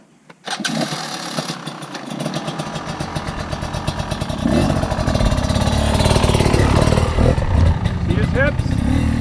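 A motorcycle engine starts up and revs, building to a loud, sputtering idle that runs steadily close by.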